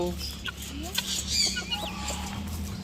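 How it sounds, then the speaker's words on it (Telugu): Guinea fowl clucking at a farm with rabbits, turkeys and chickens, a few short calls rising over a steady low background hum, with faint voices in the distance. "గిన్నెకోళ్ళు"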